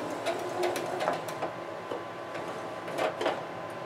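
A sewing machine stitches through fabric to lock a seam, a quiet run of quick mechanical ticks and clicks in uneven bursts, close up, with no talking.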